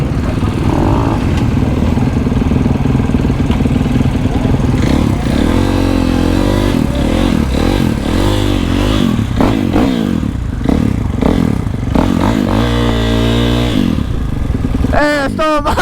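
A supermoto motorcycle engine revs hard up close, rising and falling in repeated sharp bursts with clattering mechanical noise throughout, and a voice heard over it.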